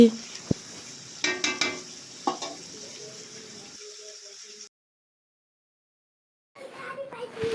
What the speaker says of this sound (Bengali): দেখো এখানে চিকেনটাকে কষানো হয়েছে দেখতে থাকো আরও ভালো করে কষিয়ে নেব